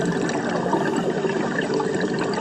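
Natural underwater-style water sounds, a steady flowing wash with soft trickling and bubbling, continuous and fairly loud throughout with no voices.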